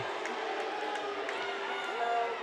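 A mostly home Spencer County crowd cheering at a high school district championship basketball game, a steady roar of voices filling the gym with a commentator talking over it.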